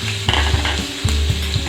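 Diced potato, chopped onion and green chili sizzle loudly in hot oil in a pan, a steady close crackle broken by a few rhythmic scrapes of stirring.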